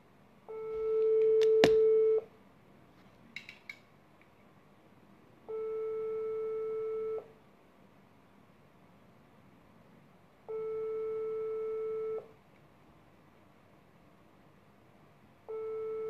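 A telephone ringback tone sounds as a call is placed, steady tone bursts of about two seconds each repeating every five seconds, clear and alone with no voices.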